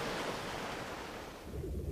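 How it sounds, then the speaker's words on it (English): A towering tidal wave, 25 meters high, surges across a lake shore and strips it to bare rock, a loud, continuous roaring wash of water filling the whole stretch before easing slightly near the end. "The huge jet sends a tidal wave 25 meters high racing across the shore"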